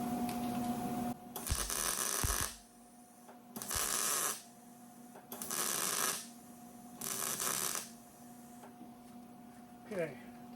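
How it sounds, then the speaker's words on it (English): A 1972 VW Super Beetle floor pan is tack welded in four short bursts of crackling, buzzing arc, each about a second long, separated by quiet pauses with a low hum. The welds are close and loud. "we'll tack weld this corner"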